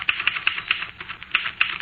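A 1940s radio-drama typewriter clacks away in quick, uneven bursts of sharp keystrokes, close and crisp, with no voices during the run of typing.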